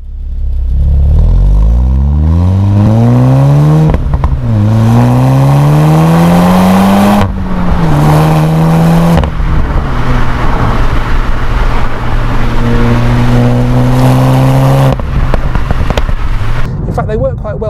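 SEAT Leon Cupra engine revving hard on and off the throttle, with synthetic engine sound rising in pitch under load and exhaust pops and bangs on lift-off, loud and close, with someone talking over parts.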